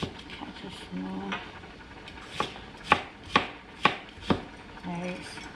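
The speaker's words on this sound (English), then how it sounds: "The ginger, cut to small." Knife chopping ginger on a board in a home kitchen, several sharp evenly spaced chops in quick succession, with quieter knife and board sounds and a voice talking around them.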